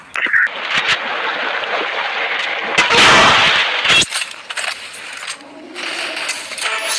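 Loud gunfire from a mobile shooter game played on a Redmi Note 14: repeated sharp shots and bursts, with a dense volley in the middle, over continuous game background noise.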